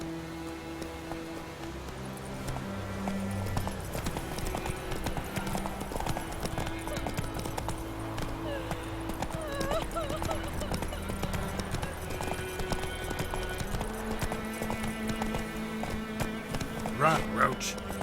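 Horse hooves galloping in The Witcher 3, a rapid rhythmic clip-clop of a running mount with game music and ambience, a voice speaking over it, and a brief neigh near the end.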